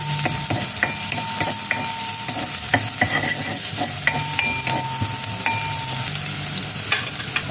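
Chopped garlic frying in a pan for a fish dish, a steady close sizzle with repeated scraping stir strokes and occasional clinks of utensil on pan.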